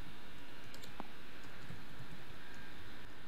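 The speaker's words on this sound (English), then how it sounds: "And now let's type in a word." A computer keyboard is tapped to type a word into a Flutter Wordle app, giving a few sparse, light key clicks over a soft background hiss, with no one speaking.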